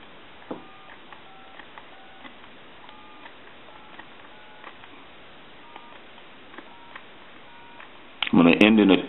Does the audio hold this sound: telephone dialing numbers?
yes